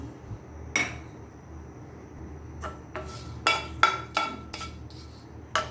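Dried red chillies dropped into a frying pan, heard as a series of sharp metallic clinks and taps of utensil on pan, spaced irregularly and close up, with quiet gaps between.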